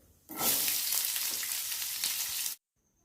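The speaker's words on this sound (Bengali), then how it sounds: "ফোড়ন ভাজা ভাজা হয়ে গেলে এবার দিয়ে দিচ্ছি পেঁয়াজ" Onions drop into hot oil already frying with cinnamon, cloves, cumin seeds and bay leaf for a mushroom masala, setting off a sudden loud, close sizzle that holds for about two seconds and then cuts off abruptly.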